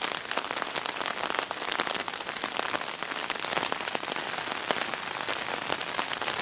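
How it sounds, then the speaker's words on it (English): Steady rain drums on the fabric of a one-person ALPS Mountaineering Zephyr tent at night, a dense, continuous patter of close drops with no talking. "the rain's picked up"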